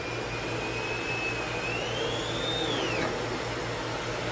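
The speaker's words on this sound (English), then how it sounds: "With this machine, if you do pick up something you shouldn't, automatically shuts off." A Lindhaus Valzer Eco Green upright vacuum drones with a loud steady whine that rises slightly, then falls away as the machine automatically cuts out, leaving a low hum.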